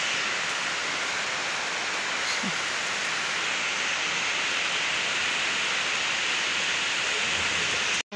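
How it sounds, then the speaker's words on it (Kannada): Steady rain falls outside a house during a thunderstorm, a dense, even hiss with no distinct drops, continuous at a moderate level and cut off abruptly at the very end. "ಸೊ ಹಿಂದ್ಗಡೆ ಮಳೆ ಬರ್ತಾ ಇದೆ ನೋಡಿ"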